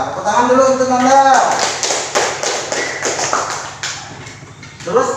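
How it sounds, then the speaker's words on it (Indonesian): A classroom of pupils claps for a classmate, a dense burst of hand claps rising after a spoken call and running on for several seconds, with voices mixed in near the start and end. "tepuk tangan dulu untuk Nanda"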